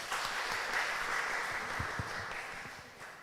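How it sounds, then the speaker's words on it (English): Audience applause closing a panel session at an academic law conference forum, a steady wash of clapping that holds fairly constant and tapers slightly near the end, at moderate level with no talk. "please give applause for all of us"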